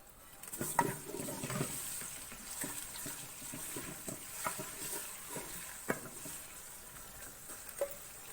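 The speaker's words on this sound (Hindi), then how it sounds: "अब लहसुन को थोड़ी देर भून लेंगे।" Garlic paste and onions frying in a pan, a faint steady sizzle with soft stirring scrapes and occasional light clicks throughout.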